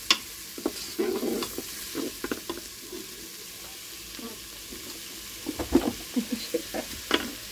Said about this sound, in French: Donc, je fais revenir les oignons.